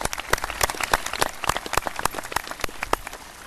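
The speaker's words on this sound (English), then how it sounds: "Yeah, we can give them a round of applause." Graduation crowd applauding its teachers, a dense patter of many hands clapping at once, loud and continuous with sharp individual claps standing out, no voices over it.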